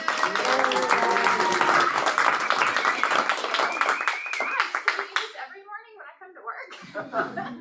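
Small office team meeting applause for a colleague called up front, a burst of clapping mixed with chuckles and chatter that thins into a few scattered claps.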